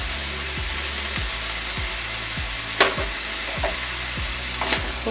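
Cabbage and moong dal with salt are stirred in a pan over a steady low hum, regular scraping strokes recurring about every half second, one sharp clack standing out midway.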